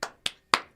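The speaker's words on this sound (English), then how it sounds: "Clapping." Four sharp hand claps, evenly spaced about a quarter second apart, close and crisp, with brief decays between them and no talking.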